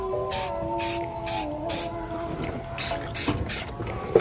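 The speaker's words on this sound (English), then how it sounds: "I'm just kind of spraying it" Home Depot header paint sprayed from an aerosol can onto car exhaust headers, heard as a run of about eight short, evenly spaced hissing bursts over a steady background hum.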